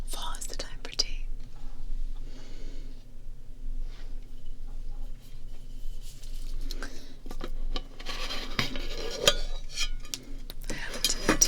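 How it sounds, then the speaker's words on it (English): A tin of tea and a mortar and pestle are handled close up in a quiet room, with soft tapping, rubbing and scraping clicks scattered through, building to a busier grinding rustle near the end, while a voice whispers. "I have a tin of tea here. And I have mortar and pestle from another video."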